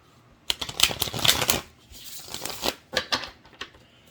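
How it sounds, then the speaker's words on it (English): Tarot cards are shuffled close by in a few quick bursts of riffling and flicking papery slaps, with short pauses between the runs. No voices are heard. "let's shuffle the cards"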